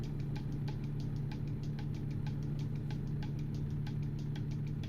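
A damaged truck's engine idles in American Truck Simulator, a steady low hum with faint regular ticking, constant and alone.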